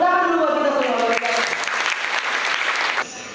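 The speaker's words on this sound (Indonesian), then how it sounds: "Tepuk tangan dulu buat kita semua" Applause from a workshop audience, a steady dense patter of clapping that carries on for several seconds at close range, with a voice sounding over it early on before the clapping thins slightly near the end.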